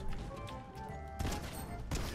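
Frenzy Auto Shotgun fired in Fortnite, a few loud blasts over dense game noise and background music, with sharp bursts near the middle and end.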